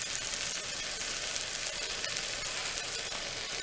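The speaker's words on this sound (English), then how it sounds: "I'm gonna take the roll-ups and I'm gonna put them on the pan" Grilled cheese roll-ups fry in melted butter in a pan, giving a dense, continuous crackling sizzle that is close and even throughout, with no voices.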